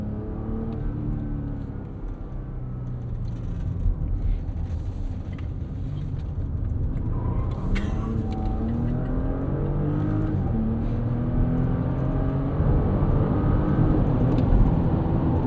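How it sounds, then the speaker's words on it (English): A 2024 Porsche Cayenne E-Hybrid SUV engine revs hard and climbs through quick successive 8-speed gear shifts, pitch rising and dropping with each change, loud and close from inside the vehicle. "super fast gear changes from this 8-speed"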